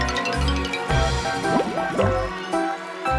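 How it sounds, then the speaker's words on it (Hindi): An axe dropped into a river in an animated children's story makes close splashing, dripping and gurgling water sounds in short bursts, loud and with no speech. "और जानबूझकर कुल्हाड़ी को नदी में गिरा दिया।"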